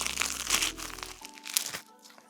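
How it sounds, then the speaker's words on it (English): Close, crackly crunch of teeth breaking into flaky puff pastry filled with beef and chorizo, a dense burst of crisp snaps and crinkles over a low hum that fades out near the end. "Now take a bite. Hear that crunch?"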